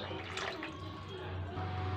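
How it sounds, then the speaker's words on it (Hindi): About 100 ml of water is poured from a measuring cup into a bowl of refined oil, making a faint, steady liquid splash and trickle over a low background hum. "अब इसी कप से नाप कर हम इस्तेमाल करेंगे 100 एम ही पानी"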